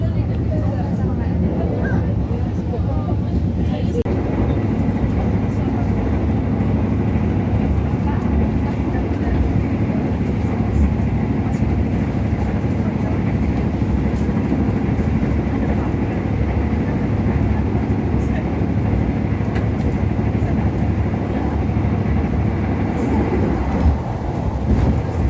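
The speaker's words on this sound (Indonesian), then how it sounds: "Kereta ini dapat dipacu dengan kecepatan maksimal 120" The Majapahit passenger train, with stainless steel carriages, runs along Indonesian rails, giving a loud, steady rumble and rolling clatter that continues for the whole stretch, with some muffled voices in the mix.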